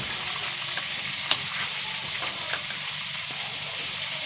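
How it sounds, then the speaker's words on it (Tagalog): Fish sizzles and crackles steadily in hot oil, with occasional sharp pops and spatters standing out from the constant hiss. "prito na naman tayo"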